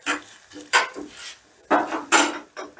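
A spoon stirring spices such as Kashmiri chili into a hot oil tempering, giving a few separate close clinks and scrapes against the pan, with quiet pauses between bursts and no talking.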